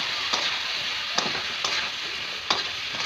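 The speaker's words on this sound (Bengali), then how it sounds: "হলুদের গুঁড়ো, লঙ্কার গুঁড়ো, জিরের গুঁড়ো, নুন, সব এটা ভালো করে আমি কষিয়ে নেবো একসঙ্গে" Ground spices — turmeric, chili, cumin and salt — sautéing in a pan for a fish and potato curry, a steady close sizzle broken by four sharp spatula scrapes as they are stirred, no voices.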